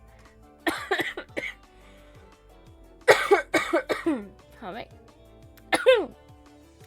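Several coughs come in short clusters, close and fairly loud, with a few brief spoken words between them.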